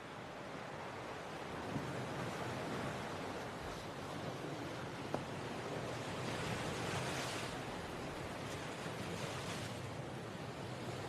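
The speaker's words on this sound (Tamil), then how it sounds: "காத்து ரொம்ப திக்கா இருக்கு." Strong wind blows at a beach in a movie scene, a steady, loud roar of rushing air and surf-like hiss that runs unbroken throughout, with no talking.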